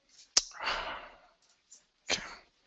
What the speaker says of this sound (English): I'm gonna have to sneeze.